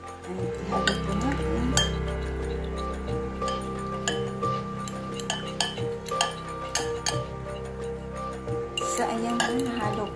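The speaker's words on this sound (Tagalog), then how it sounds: "nahalo ko na yung ating dressing" A spoon stirs a vinegar, salt and sesame oil dressing for cucumber in a bowl, giving repeated close clinks and scrapes in an irregular rhythm, with faint background hum and a little speech.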